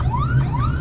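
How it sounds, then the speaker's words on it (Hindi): Ambulance sirens wail after a suicide attack in Islamabad, their tones sweeping upward over and over, loud and close, above a steady low rumble of traffic and crowd. "एम्बुलेंसेस की आवाज़ तो ऐसे कलेजे में लग रही है"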